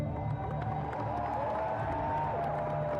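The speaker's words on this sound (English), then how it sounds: "especially the applause is definitely audible" Crowd applause and cheering isolated in the low band of a poor-quality recording, a muffled, continuous wash of clapping and voices at moderate level.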